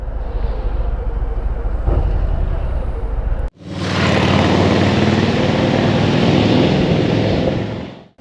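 A Harley-Davidson Street Bob 114 motorcycle with its 1868 cc engine ticks along at low revs, a steady close rumble that cuts out briefly and then returns as a louder, fuller drone for several seconds.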